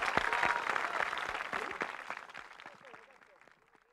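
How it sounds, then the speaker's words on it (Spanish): Applause breaks out at a ski federation award ceremony, a crowd clapping strongly at first and then thinning and fading over a few seconds, with voices surfacing as the clapping dies away. "Un aplauso grande."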